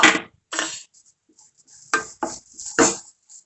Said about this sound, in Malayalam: ഇനി നമുക്ക് അതിലേക്ക് അരിഞ്ഞു വെച്ചിരിക്കുന്ന കാബേജ് ഇട്ട് കൊടുക്കാം